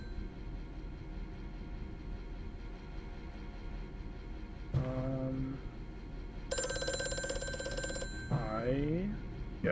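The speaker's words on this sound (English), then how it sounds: "Yes, I should answer the phone." Telephone ringing in the horror video game Amnesia: A Machine for Pigs, a bright electric bell ring heard in a short burst over a low ambient hum, with a person talking briefly around it.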